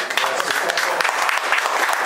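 An audience gives a sustained round of applause for athletes at a junior sporting event in Corinaldo, a steady dense clatter of many hands with a voice faintly underneath.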